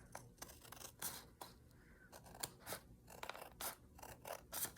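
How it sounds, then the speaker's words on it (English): Big scissors cutting thin paper by hand, several crisp snipping and clacking strokes at an uneven pace, close and fairly quiet, with no talking. "I'm gonna cut this one manually because it's so skinny. I'm gonna use my big scissors."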